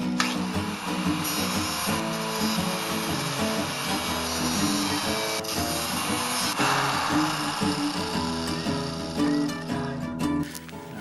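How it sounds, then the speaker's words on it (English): Tool work on a 5-speed motorized bicycle build with a 212cc engine as a sprocket is taken off, a steady dense mechanical whir with clanks and rattles running loud and continuous throughout, no talk. "let me just start out by taking that sprocket off"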